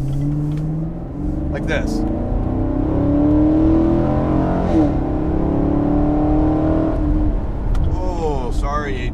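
The engine of a 2017 Ford GT revs and roars through its exhaust, rising and falling under steady in-car conversation, loud and close.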